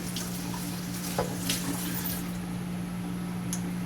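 Cold tap water runs over cooked noodles in a colander, a steady, fairly quiet splashing stream beneath a constant low hum, with a few soft clinks and squishes.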